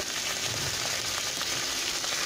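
Turmeric and chili powder frying in a pan for a bottle gourd and snakehead fish curry, a continuous loud sizzle with faint stirring scrapes and no talking.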